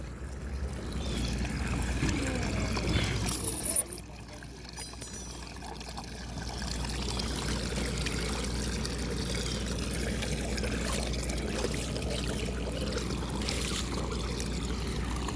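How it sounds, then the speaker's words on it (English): Heavy rainwater pours steadily into a roof drain on a flooded rooftop, a continuous close rushing wash with a brief sharp clatter near the start. "there is a lot of water going to the drain"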